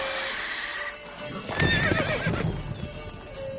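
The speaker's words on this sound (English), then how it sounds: "Whoa there, Roach." In The Witcher 3 video game, a horse gives a clear whinny midway through, with hoof clip-clops and ambient game background underneath.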